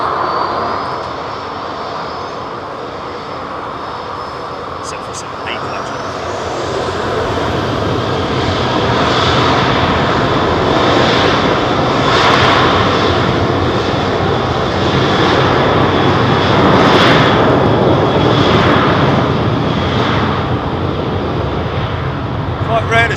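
A KLM Boeing 737-300 takes off at London Heathrow, its jet roar loud and close, swelling steadily over twenty seconds with broadband rumble and whine; people talk faintly nearby.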